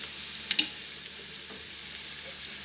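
Ginger, garlic and crushed red chili fry in hot oil with a soft, steady sizzle, close and quiet, with a couple of brief clinks of a spoon early on.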